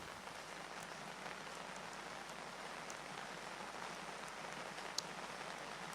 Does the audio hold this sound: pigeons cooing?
no